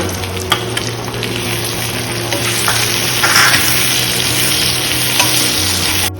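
Goan-style prawns fry loudly in a pan, a steady, dense sizzle running unbroken throughout, with a low background hum and no talking.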